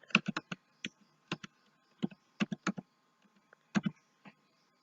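Typing on a computer keyboard while editing in Filmora: short bursts of crisp, close key clicks with brief pauses between them, fairly quiet and with no voice.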